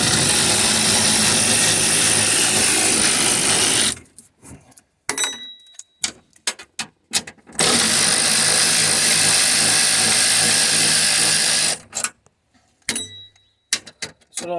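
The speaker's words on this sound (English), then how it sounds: "This little electric wrench really makes it all." A small electric wrench whirs in long sustained bursts while removing bolts from a 2006 second-generation Prius hybrid battery, loud and close, with clicks, clinks of metal bolts and handling noises between runs.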